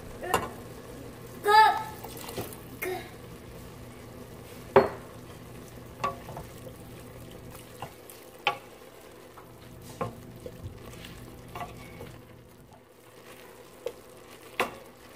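Ground beef for lasagna meat sauce frying in a pan as red wine goes in, soft bubbling and sizzle with scattered utensil clicks and scrapes, close by and steady.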